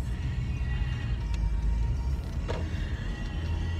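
A car driving, heard from inside as a steady low rumble of engine and road noise, with no talking.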